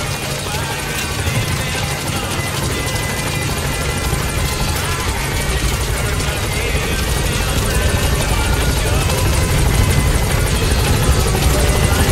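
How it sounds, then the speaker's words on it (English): A support helicopter's rotor thumps and engine roar fill the scene steadily and loudly as it arrives at a landing zone in the video game Metal Gear Solid V: The Phantom Pain, a dense continuous drone close by with no letup. "Support helicopter has arrived."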